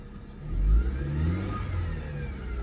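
Mercedes C180K engine pulling away after front brake disc and pad replacement, a low rising hum as the car moves off, moderately close and steady with no talk.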